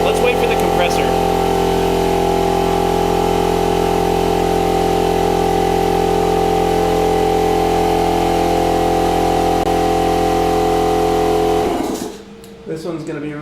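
An air compressor in a CNC workshop runs with a steady mechanical hum and strong low tonal harmonics for about twelve seconds, then cuts off abruptly, leaving quieter background noise.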